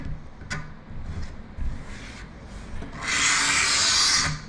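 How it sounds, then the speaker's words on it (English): A scraper rasps excess glue from the edge of a newly installed countertop, first in a few short scratchy strokes, then in one longer, louder, continuous scrape near the end. "Scraping that excess glue off there."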